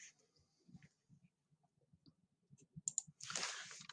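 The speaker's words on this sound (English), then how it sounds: "I'm going to click on New Job" A few light computer mouse clicks on a software screen, soft and close, scattered over quiet background, followed by a burst of brighter rustling noise at the end.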